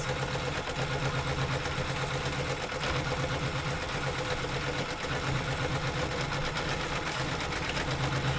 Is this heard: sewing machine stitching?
yes